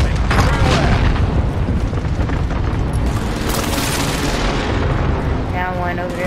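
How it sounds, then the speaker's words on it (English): Heavy booming explosions from a precision airstrike in a military shooter, a continuous loud rumble of blasts and debris with gunfire mixed in, and a voice briefly heard near the end. "Allied precision airstrike incoming."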